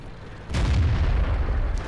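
A tank shell strikes a turret in World of Tanks, a sudden heavy booming impact that rolls on as a low rumble.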